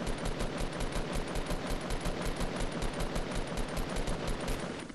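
Rapid, sustained automatic gunfire from a Fortnite squad match, a dense stream of loud repeated shots with no pauses, with no voices over it.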